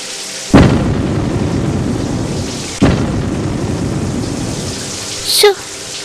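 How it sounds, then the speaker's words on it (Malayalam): Steady rain pours throughout a thunderstorm, with two sharp, loud thunder cracks near the start and middle and a brief rising tonal sound near the end. "മക്കളെ മഴ കൊള്ളണ്ട തലയിൽ വെള്ളം വീഴും"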